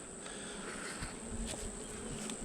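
Honey bees buzz steadily and densely around an open hive during an inspection after a swarm install. The drone is continuous and close, with no pauses over the whole stretch.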